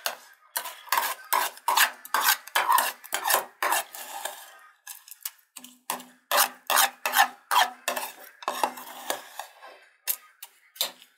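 Runny batter for homemade hamster cookies being stirred in a bowl, heard as a steady run of close, rhythmic scraping and clinking strokes, with a short pause partway through.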